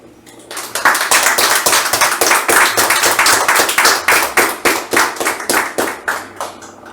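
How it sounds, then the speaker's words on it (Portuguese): An audience claps at a school project event, loud and close. Many hands strike in a strong, nearly even rhythm after a brief quiet start, and the clapping keeps on steadily to the end. "Peço para ele uma salva de palmas"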